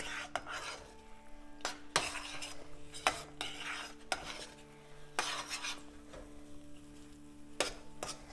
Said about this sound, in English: So you keep stirring until the mixture is thick.